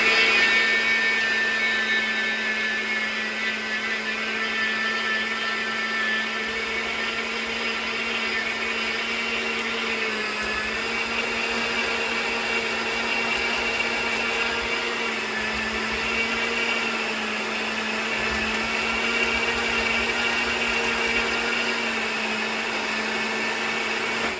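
An ancient food processor grinds sugar into powdered sugar with a loud, steady high-pitched whirring drone that holds constant from start to finish.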